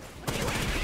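Sustained shotgun fire in the tactical shooter game Rainbow Six Siege bursts in abruptly after a brief quiet, loud and dense, like a rapid volley of close-range blasts.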